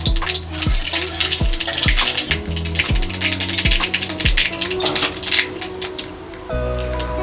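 Dried red chillies and black mustard seeds fry in hot oil, a loud, close, crackling sizzle with splattering pops and a few knocks from a utensil, and nobody speaking.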